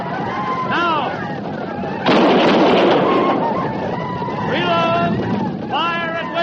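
A radio drama battle scene with a loud gunfire volley erupting as a dense burst of shots, framed by shouting voices and horse whinnies before and after.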